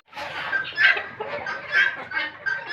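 A domestic turkey hen clucks in a farm setup, several soft, repeated nasal calls close by in an uneven rhythm.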